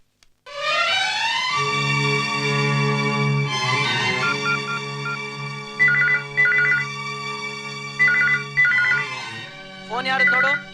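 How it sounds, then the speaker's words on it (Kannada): A telephone rings in short repeated bursts, sounding over sustained background music in a comedy scene, with the rings loud and near. "ಫೋನ್ ಮಾಡಿರೋದು ಯಾರು ನೋಡು ಅಂದೆ"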